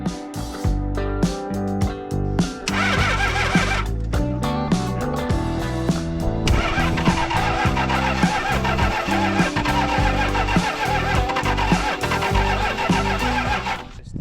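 A wrecked Toyota 2H diesel engine with a fuel delivery fault is cranked repeatedly, a loud, rhythmic churning that stops and starts, then runs on for a long continuous stretch, close by with no talk.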